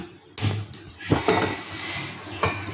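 A wok set down on a gas stove for hot and sour chicken soup, giving a few sharp metallic clanks and knocks spread over a few seconds, close by.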